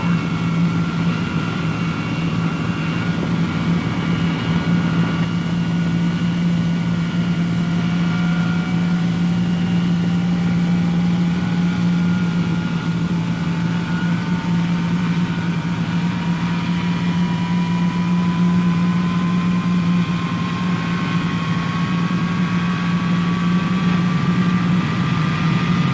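The jet engines of a Boeing B-47 Stratojet bomber spool up with a steady low roar and a rising whine that climbs slowly and steadily, continuous and moderately loud with no talking.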